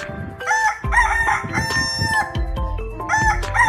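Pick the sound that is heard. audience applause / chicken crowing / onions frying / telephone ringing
chicken crowing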